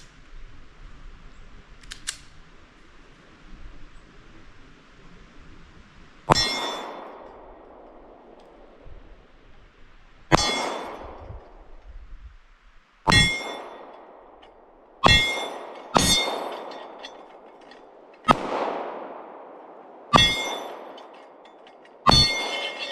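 Shots from a Glock 45 pistol at outdoor targets by an off-grid cabin in Vermont: about eight sharp, loud reports at irregular intervals, each with a short echoing tail, over quiet ambient background.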